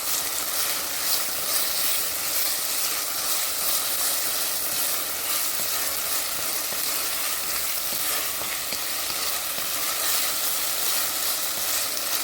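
Onions and tomatoes fry in a little oil in a pot while cooking an Ethiopian dish, giving a steady, even sizzle and crackle that lasts throughout at moderate loudness, with no voices heard.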